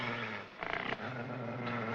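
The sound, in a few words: dog growling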